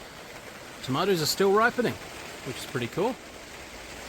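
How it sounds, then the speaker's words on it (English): Steady rain falls in a garden on an October afternoon, a soft even hiss running through the whole stretch beneath someone talking. "And obviously today it's raining."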